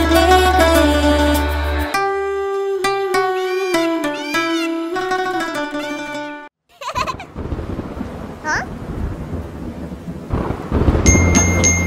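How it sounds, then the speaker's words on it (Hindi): A children's song gives way to rain, a loud, dense hiss with rumbling thunder beneath it, going on for several seconds near the listener. "बारिश आई छम छम छम"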